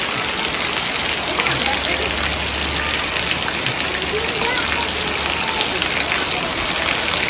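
Steady rain pours down without wind in a village near Botad, a dense continuous hiss of drops on surfaces that stays even and close from start to finish.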